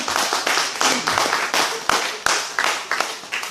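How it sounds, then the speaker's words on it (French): Church congregation applauding during a French-language sermon, a close, lively burst of clapping with rhythmic surges in a steady pattern, loud and continuous. "Acclame pour toi-même, acclame pour toi-même"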